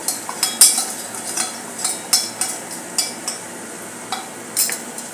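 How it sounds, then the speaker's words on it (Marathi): Spoon stirring red chilli powder and turmeric into food roasting in a pan for a healthy breakfast, repeated close metallic scrapes and clinks against the pan with a light sizzle underneath, no talking. "मिक्स करून घेऊया। चांगले भाजून घेऊया।"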